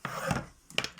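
Plastic rails of a cross-stitch frame being slid, giving two short scraping, rubbing bursts separated by a brief pause, close and fairly quiet with no talk.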